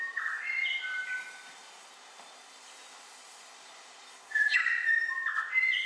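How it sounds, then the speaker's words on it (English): Bellbird song of liquid, musical, bell-like whistled notes, a short tuneful phrase, a quiet pause, then a louder run of ringing melodic notes, clear and fairly close. "This is the first bird, the bellbird."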